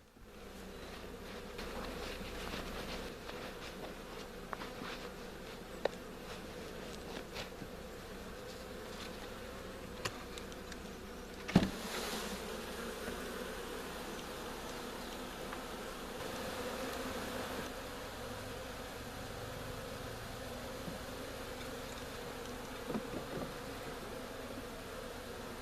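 A swarm of bees buzzing around a top bar hive during a swarm capture, a steady, low droning hum throughout with occasional faint knocks and handling sounds.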